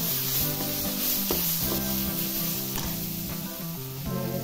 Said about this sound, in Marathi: लसूण आले हे घालून बटाटा कच्चा पण थोडा घालवायचा आहे, 2 मिनिटासाठी परतायचा आहे